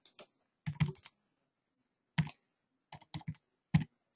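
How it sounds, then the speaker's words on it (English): Typing on a computer keyboard: short bursts of close, crisp key clicks in irregular clusters with quiet pauses between them, heard alone without speech. "Let me type it here."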